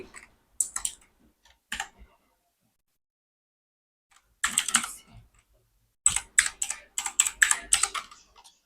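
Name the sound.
typing on a computer keyboard into a search bar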